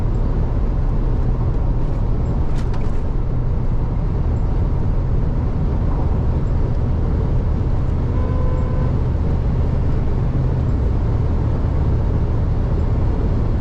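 A Mahindra Thar Roxx runs at high speed in fifth gear on a highway, giving a constant broadband roar of wind, tyres and engine, loud and unbroken, with no talking.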